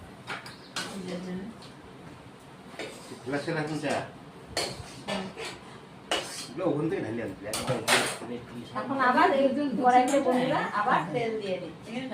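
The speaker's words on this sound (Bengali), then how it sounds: "বন্ধুরা সোয়াবিন ভেজে নিলাম এখন নামিয়ে নিচ্ছি" Fried soybean chunks lifted out of a pan with a metal utensil, a series of scattered clinks and scrapes against the cookware at close range, irregular and intermittent, under a person talking.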